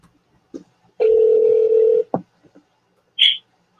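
A steady electronic ringing tone holds for about a second, bracketed by soft clicks, then a brief higher beep follows after a pause.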